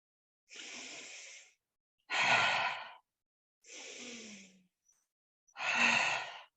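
Four slow, deep breaths from a breathing exercise in a live hip mobility class, with long airy inhales alternating with sighing exhales, each around a second long and separated by brief silences, close and clear.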